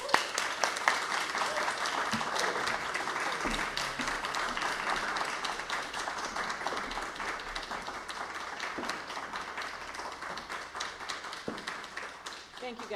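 An audience claps steadily to welcome performers onto a stage at a poetry LP release event, a dense, even wash of applause that continues throughout with occasional louder claps and faint voices beneath.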